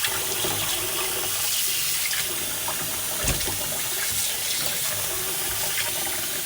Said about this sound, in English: So we can just rinse it and take it out.